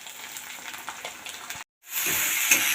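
Garlic, black cumin seeds and a ground paste of cumin, garam masala and bay leaf sauté in hot oil with a steady hiss and crackle, which cuts out briefly midway and then returns louder and denser.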